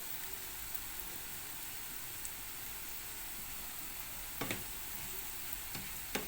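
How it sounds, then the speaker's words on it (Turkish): A pot of meatballs simmers with a steady, soft bubbling and sizzling hiss, with a few faint clinks near the end. "Köftem arkadaşlar burada kaynıyor."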